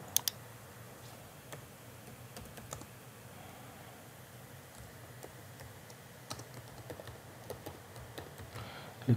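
Typing on a computer keyboard, with quiet, irregular clicks of the keys close to the microphone and a few sharper taps at the start and end.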